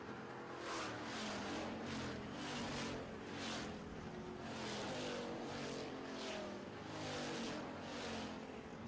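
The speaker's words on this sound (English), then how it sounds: "They are coming around 3 and 4. We're going back to racing." Pure stock race cars roaring around an oval track during a feature race, loud sustained engines swelling and fading in repeated waves as the pack passes, with no talk.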